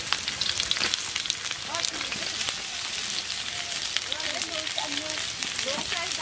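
Chopped onion hits hot oil that already holds green chillies, for a Bengali-style chicken curry: a steady, loud, crackling sizzle runs throughout, with scattered pops and a voice speaking faintly underneath.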